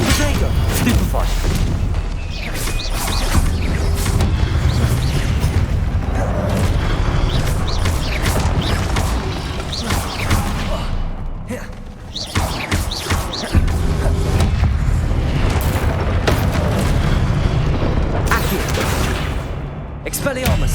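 Repeated booming Confringo spell blasts from Hogwarts Legacy on PS5 fill the whole stretch, with dense crashes, whooshes and thuds in rapid succession and only one brief lull midway.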